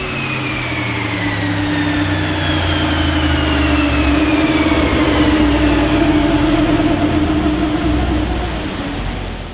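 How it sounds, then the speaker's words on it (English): A Range Rover SVR engine is run up on a dyno during tuning, a loud steady drone with a rising and falling whine as the revs climb, hold and ease off. "it's on our dyno for some live tuning to make sure we can get every last drop of performance out of it."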